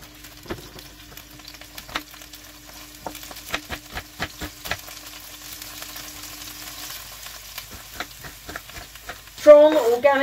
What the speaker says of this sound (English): I like to use olive oil. Put that on a medium heat. And put the first chopped onion in.